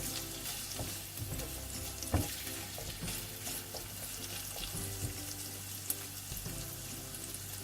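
Boneless chilli chicken fries in a pan with a continuous close sizzle, occasional stirring knocks and light clatter running throughout, no voices over it.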